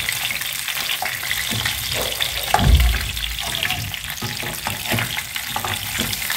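Stuffed pigeons sizzle in hot oil in a pan and are turned over. A steady frying crackle runs throughout, with a louder clatter and bump partway through as they are flipped.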